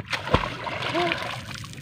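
A fisherman slaps the sea surface off Mabini, Bohol, giving a sharp splash followed by sloshing and trickling water, with voices talking over it.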